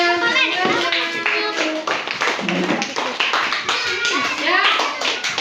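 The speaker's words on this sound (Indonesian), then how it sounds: "Nah, beri tepuk tangan." A school class claps their hands in a brief burst of sharp, overlapping claps mixed with children's voices and chatter close by.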